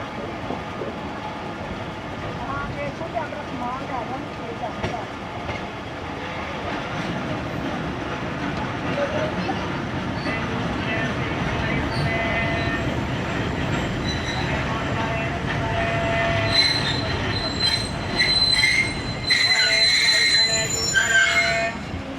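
Hazara Express passenger train rolling slowly into the Liaquatpur loop line, heard from inside a coach: continuous rumbling wheels, rattling carriage and high squealing of wheels on the rails toward the end, with some faint background voices.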